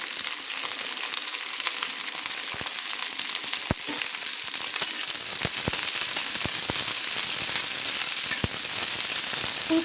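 Small chopped cauliflower pieces frying in a pan, a steady dense sizzle throughout with occasional sharp crackles and light clicks from stirring.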